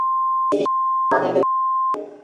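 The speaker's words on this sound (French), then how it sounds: "il y a toujours cette espèce de bip" A steady high censor bleep tone, broken by short bursts of muffled speech between three stretches of beeping, loud and close.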